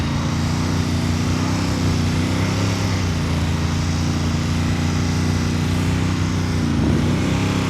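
A motorcycle engine idles and putters steadily at low speed during slow-speed riding practice in North Carolina. The drone stays even and fairly close for about eight seconds, with no talk over it.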